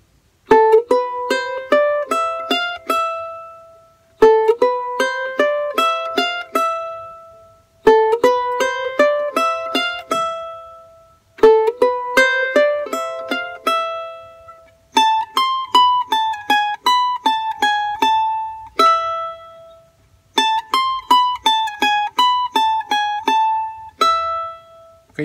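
Charango picking a repeated melodic phrase from Alma Llanera, bright plucked single-note runs played four times, then a shifted variation twice, close and clear with short gaps between phrases.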